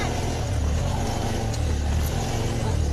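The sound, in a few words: car engine revving while stuck in mud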